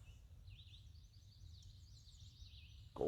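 Goldfinches call from the trees on an early-morning walk: a faint, thin run of twittering, wavering notes repeating steadily over low outdoor rumble, ending with a brief louder knock.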